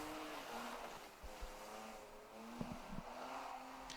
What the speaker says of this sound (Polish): Tak, 47, czyli Michał Bednosz, Bednasz i Bartosz Kraska w BMW E36 328.